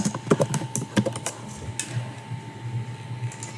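Close computer keyboard typing while entering text in sign-making design software: a quick burst of crisp key clicks, then sparse taps over a faint steady hum, with no talk.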